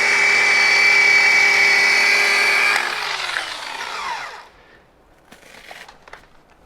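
A rotary polisher works modern clear-coat car paint at low speed, giving a loud, steady high whine that cuts off about halfway, then spins down into quieter rustling and faint handling noises.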